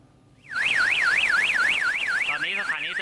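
A loud electronic flood warning station alarm in Thailand wails in a fast up-and-down warble, starting abruptly and holding steady over background noise, with no talking.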